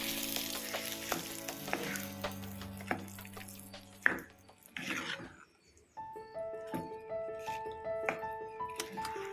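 Pumpkin erissery curry is mixed in a pan, giving a soft sizzle with repeated spoon knocks and scrapes, while steady musical tones sound in the background.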